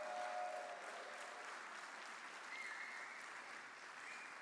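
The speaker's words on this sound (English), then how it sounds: "Let's give them a round of applause" Sustained applause from an audience for the San Jose Jazz High School All-Stars U19 teen combo at a city celebration event, a steady wash of clapping that stays loud and even throughout.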